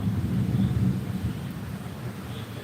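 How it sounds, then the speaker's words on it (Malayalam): Deep, rolling thunder rumbles steadily through a thunderstorm, loud and continuous in the low range for the whole stretch, with no voices. "ഇടിയും മിന്നലൊക്കെ ഉണ്ട്"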